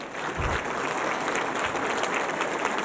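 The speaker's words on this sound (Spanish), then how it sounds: "Demos un aplauso, por favor, a Mujer Valiente." Congregation applauding during an anniversary Sunday church service, a steady dense clatter of many hands filling the whole short stretch at an even level.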